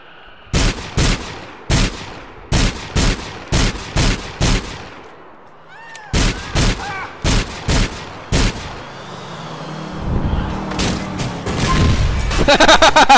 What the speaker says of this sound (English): Sticky bomb for the win.